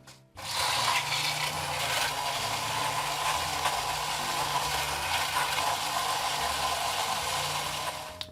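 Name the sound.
spindle blender mixing a cocktail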